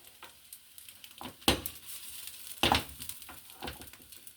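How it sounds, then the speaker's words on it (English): A rice and egg omelette fries in a pan with a faint, low sizzle, punctuated by a couple of sharp utensil clatters as it is flipped and handled. "flip the omelette over and cook for another 3 to 5 minutes until it's fully cooked throughout"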